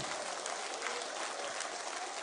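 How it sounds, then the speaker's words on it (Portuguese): Steady, lively applause fills a church service as the congregation claps for Jesus, a continuous even wash of hand claps with no voices standing out. "Palmas para Jesus bem alegre"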